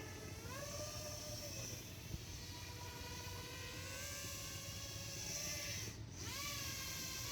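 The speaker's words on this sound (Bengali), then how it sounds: "ড্রোনটাকে আরেকটু নিচে নামাই" A homemade GPS drone hovers nearby at steady altitude while being lowered, its propellers giving a continuous whine with gently shifting pitch and a brief dip near the end.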